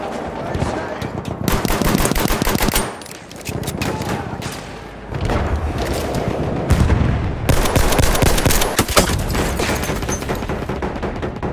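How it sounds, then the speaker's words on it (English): Machine gun fire in the Battlefield 1 video game, with rapid automatic bursts and scattered gunshots sounding loud and dense throughout, broken by a short lull near the middle. "Enemy machine gun, sighted!"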